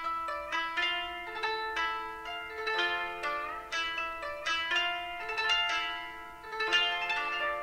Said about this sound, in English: I think I found a jazz sample that I'm going to work with